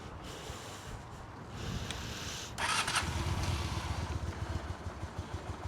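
A Honda Shadow 400 motorcycle with 38,000 km on it starts up, and its engine settles into a steady, close, even idle rumble. No one speaks over it.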